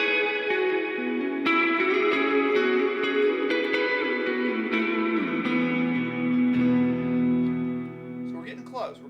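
Electric guitar through an ambient reverb pedal plays sustained notes that ring out and bloom into a long, washy tail, staying fairly loud and smooth throughout with a few note changes.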